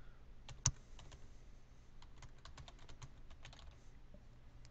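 Keys clatter on a computer keyboard as a domain name is typed into a DNS lookup website, a quick uneven run of light clicks with one louder tap near the start, close and quiet against low room hum.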